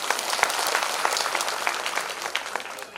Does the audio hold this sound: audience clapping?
yes